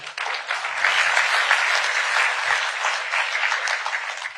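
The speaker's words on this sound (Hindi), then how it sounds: "तो तारीफ के लिए एक बार सबसे ताली बजवा दीजिए" Full, steady applause from a large audience at the WITT 2025 event, a thick continuous roar of clapping hands held at even loudness throughout.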